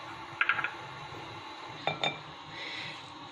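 Chicken spaghetti salad with chopped onion is stirred in a bowl, giving two short clusters of light clinking and scraping of utensil on dish against a quiet kitchen background.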